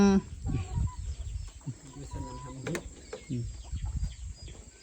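Chickens in a rural garden plot give scattered clucks and calls at moderate distance, mixed with faint rustling and background activity, no clear speech over them.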